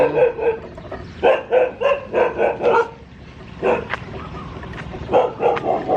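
A small dog barks repeatedly during an outdoor walk, sharp yapping barks in quick bursts, loud and close, with short pauses between volleys and no talk over them.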